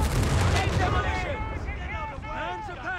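Battle gunfire in the video game Company of Heroes 3 rattles in a dense, continuous barrage with deep booms underneath, while voices talk over it.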